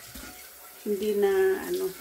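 Water runs from a kitchen tap for about a second while used cutting utensils are washed during cooking of jackfruit in coconut cream with pork belly, with a voice speaking briefly just before.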